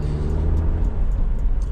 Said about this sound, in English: someone's overtaking me over a speed bump